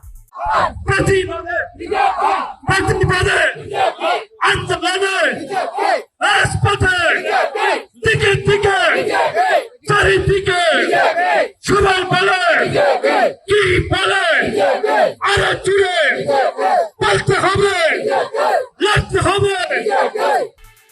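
A large crowd of BJP protesters chanting and shouting slogans at a political demonstration outside a Congress office, loud rhythmic call-and-response bursts repeating steadily with brief pauses between.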